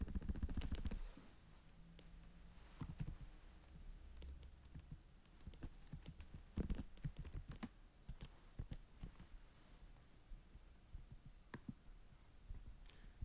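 Computer keyboard keys clatter in quiet, irregular clicks and taps, a few sharper presses among softer typing, close and faint with no voices.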